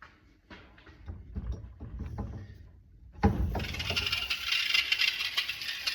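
Faint clicks and rattles give way to a sudden, steady hiss of air escaping from a car lift ram being rebuilt, continuing to the end.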